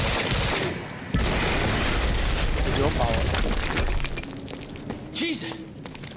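Heavy gunfire and a rumbling explosion burst out in the Quantum Break video game, a loud dense barrage that thins out toward the end while someone comments over it.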